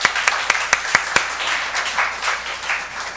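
A few sharp, evenly spaced claps ring out, then give way to a burst of church congregation applause that continues steadily.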